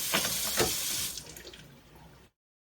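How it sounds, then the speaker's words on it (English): A kitchen-style ozone faucet runs in a steady, close, loud rush over a sink as items are rinsed and taken apart, with splashing shifts before the flow cuts off abruptly. "just go in here, rinse off our stuff, take it apart"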